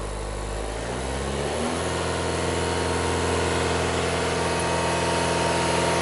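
An Audi A4 diesel engine with a clogged DPF and high exhaust back pressure is revved from idle up to 2,500 rpm. It climbs quickly and then holds a loud, steady, close drone with no voices.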